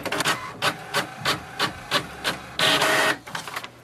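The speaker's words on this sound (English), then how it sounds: "it will send a command for the printer to print the printer information page" An HP Envy 6000 printer prints its information page: a rapid series of rhythmic mechanical clicks and whirs, then a longer buzzing feed pass and a few final clacks, close and clear.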